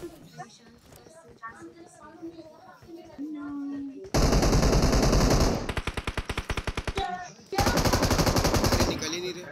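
Video game gunfire rips out in long automatic bursts, with rapid staccato rounds in between and another sustained burst at the end, loud over excited talk among players.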